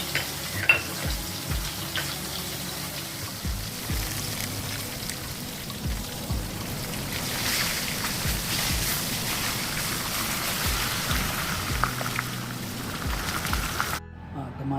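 Katla fish frying in hot oil for a Bengali fish curry, giving a steady crackling sizzle with scattered pops and spatters that runs without a break for about fourteen seconds, then cuts off abruptly.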